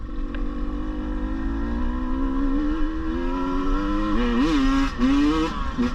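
A 2022 KTM 150 TPI two-stroke motorcycle accelerating, its engine note climbing steadily in pitch, then briefly dipping and surging again as the revs build, loud and close throughout.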